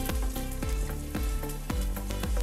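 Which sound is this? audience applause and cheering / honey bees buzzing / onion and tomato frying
onion and tomato frying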